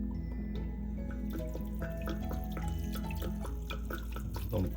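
Water running steadily from a tap into a pot of Hawaii-style oxtail soup with meat and black pepper, a continuous close splashing flow with dripping and rising fill tones throughout.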